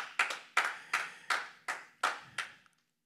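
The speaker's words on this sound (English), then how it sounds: "let's give Jesus a hand clap of praise" A church congregation claps together in praise: six sharp, evenly spaced claps about a third of a second apart, fairly close, with no talking.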